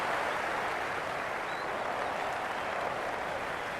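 A cricket stadium crowd at a Pakistan versus England match applauding and cheering, a dense, steady roar of clapping that holds unbroken and loud throughout.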